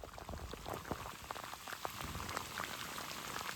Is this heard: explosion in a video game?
no